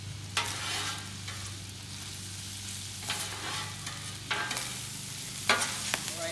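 Vegetables for lumpia, including onions, cabbage and bean sprouts, sizzle steadily on a flat top grill while a spatula periodically scrapes and tosses them, a constant frying hiss broken by a few sharp stirring strokes.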